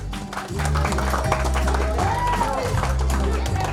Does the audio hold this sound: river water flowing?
no